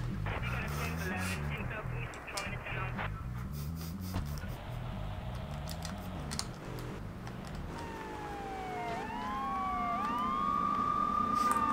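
A police car siren wails in Grand Theft Auto 3 late on, rising and falling over game engine noise, with keyboard clatter and a voice talking earlier.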